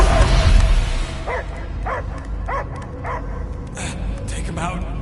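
A dog barks in a Guardians of the Galaxy video game, with a run of sharp, evenly spaced woofs and yips close by over a low rumbling background while voices talk.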